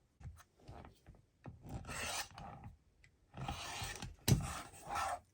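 Rotary or blade cutter slicing fabric squares down to 3.5 inches along a regular ruler, several short rasping strokes in bursts with pauses between, close and fairly quiet.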